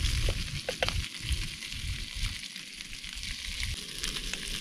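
Corned beef chunks and potatoes sizzle and fry in a pan on a Trangia camp stove, a steady dense crackle with a few sharper pops, close by and continuous without any talking.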